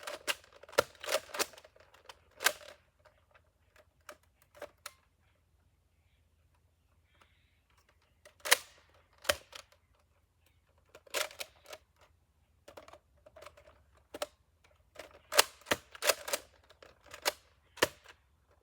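A Nerf Recon blaster firing foam darts, heard as scattered sharp clicks and snapping pops, some in quick clusters and others separated by quiet gaps, close but fairly soft.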